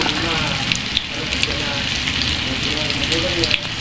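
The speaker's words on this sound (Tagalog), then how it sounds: "Prito muna tayo ng tokwa para sa ating gulay na repolyo." Steady, dense sizzling of tofu frying in hot oil, close and constant, with occasional louder pops and crackles.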